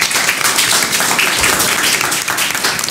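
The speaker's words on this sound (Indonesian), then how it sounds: "Wah, hebat sekali, tepuk tangannya dong." Students at a school council candidate debate at SMK Sandikta clap together, a loud, dense burst of applause filling the room continuously from start to finish.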